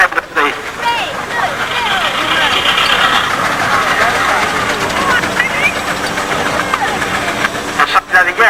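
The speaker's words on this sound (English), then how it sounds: "Now the Fowler Showman's engine, which is just trundling" A Fowler Showman's steam engine rumbles and clanks steadily as it trundles past at a historical cavalcade, with someone talking over the noise throughout.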